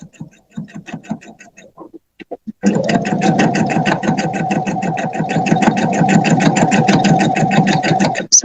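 A sewing machine with an integrated dual transport foot stitching through a quilt sandwich for a table runner, a few brief starts followed by a long steady rapid mechanical whir and rhythmic needle clatter, close and loud.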